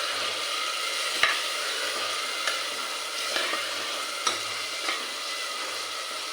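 Slit green chilies and tomato pieces sizzling steadily in a hot pan, with a few light scrapes and taps from the stirring spoon over the continuous frying hiss.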